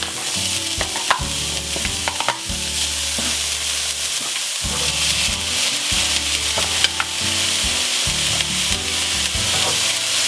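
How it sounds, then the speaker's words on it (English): Onions, carrots and celery sautéing in a pan for chicken creole, a loud, close sizzle broken by rhythmic scraping strokes of a stirring spoon. "So I've added the onions, the carrots, and the celery. And I'll give this a stir so it can saute just a little bit"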